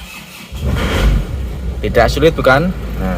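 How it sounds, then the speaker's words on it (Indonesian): A worn, high-mileage Isuzu Panther diesel engine with low compression is started on a cold morning, cranking and catching into a rough idle, while someone talks over the running engine. "Starter mesin Panther yang dalam kondisi ngobos di pagi hari"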